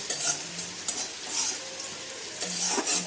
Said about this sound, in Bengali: আমি একটু কাঁচামরিচ আর পেঁয়াজ হালকা লাল লাল করে ভেজে তুলে নিচ্ছি